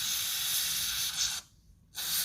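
A long steady hiss of spray aimed at a worn pinion gear bearing, loud and close, cutting off briefly before the spraying resumes.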